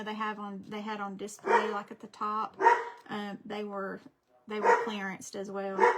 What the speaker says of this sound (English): sorry about my dogs there. They bark at everything.